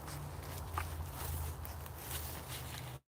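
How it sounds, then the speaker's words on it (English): Soft footsteps crunch through woodland at night over a steady low hum and background noise. The steps are faint and irregular and end abruptly in silence. "We can already hear the footsteps though."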